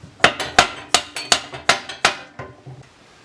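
Sharp metallic taps of a hammer seating bearing caps on a wood lathe during an overhaul, about eight evenly spaced strikes followed by a couple of softer ones, close and clear.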